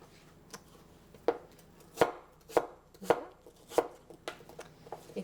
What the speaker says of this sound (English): Just make some nice slices.